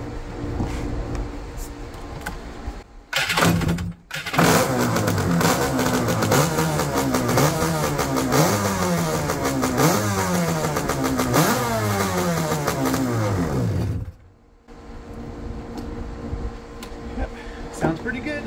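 Kawasaki 650SX jet ski engine, newly fitted with a total-loss ignition, starting and running loud and close, revving up and down repeatedly before cutting off, then a lower running sound resumes.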